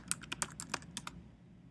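Close, fairly quiet keystrokes tap out a short word on a computer keyboard, about ten quick irregular clicks before stopping.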